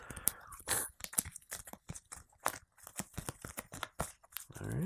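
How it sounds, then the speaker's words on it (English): Cards from the Mystic Vale deckbuilding game are shuffled by hand at a table, quick rapid riffling and snapping bursts with soft rustles, close and fairly quiet. "let's go ahead and one more good shuffle here"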